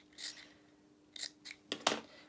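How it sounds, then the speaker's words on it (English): Scissors snip through quilting cotton fabric while cutting out patch pieces for a doll's apron dress, a few short, quiet cuts in a sparse rhythm, the last two closer together and crisper. "Not got the right scissors really, am I, for cutting it out?"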